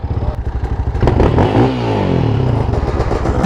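A 250 ATV racing a 700cc Raptor, close and loud, the engines revving hard and rising in pitch with rattling, scraping clatter and continuous harsh exhaust roar.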